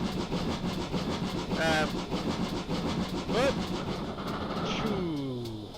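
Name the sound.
locomotive 6960 Raveningham Hall wheel slip, Train Simulator game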